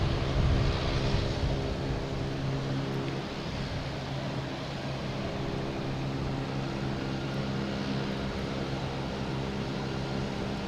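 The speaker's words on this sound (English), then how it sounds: "I think we got a Cape Air firing up in front of us here somewhere." Cape Air propeller plane at Boston Logan airport starting up, a steady broadband engine rumble with low tonal hum, fairly distant and continuous throughout, no voices.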